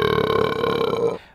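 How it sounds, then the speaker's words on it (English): A single loud, close burp, drawn out and tonal for about a second before cutting off abruptly. "It's actually cow belches, burps from the cows that are coming out."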